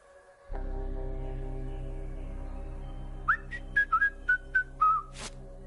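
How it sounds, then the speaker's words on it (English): Whistled notes sound at a door in the adventure game Truberbrook, a quick run of short, clear tones over a steady low ambient drone, with no talking. "Whistle 2 times, leave delivery on doormat, and exit the area."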